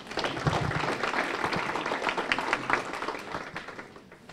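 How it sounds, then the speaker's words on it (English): Applause fills a room at a university student research day as an audience claps for a speaker. Dense, steady clapping at moderate volume runs throughout and fades slightly toward the end. "Give him another round of applause, Rishi Nair."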